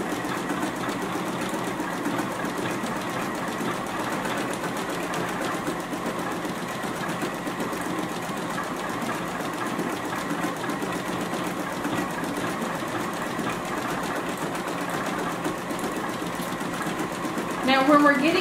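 A JUKI sewing machine stitches a beverage coaster pattern with a continuous fast mechanical whirring and rapid needle clatter, steady throughout at moderate volume, with a brief louder burst right at the end.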